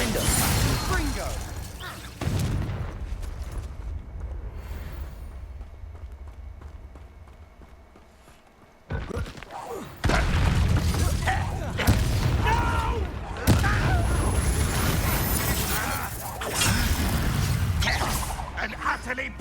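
Spell-casting combat in Hogwarts Legacy unfolds in loud bursts of magical blasts, booms and clattering effects over running footsteps, with a continuous game soundscape and a voice speaking throughout.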